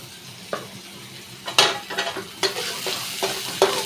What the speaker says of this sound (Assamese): ইয়াত মই পিঁয়াজ তেলত দিয়াৰ পিছত অলপমান নিমখ দি দিব লাগে